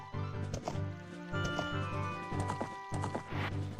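Hooves clip-clop steadily from a horse in Zelda: Ocarina of Time, a rhythmic trotting beat laid over looping game music and close and clear.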